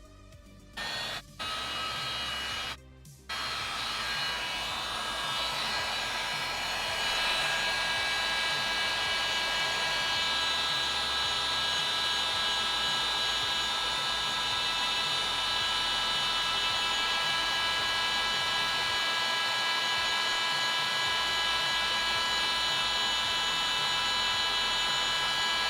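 A heat gun blowing on a game case to lift a white label: a couple of short bursts switching on and off, then a loud, steady airy whir with a high whine running continuously.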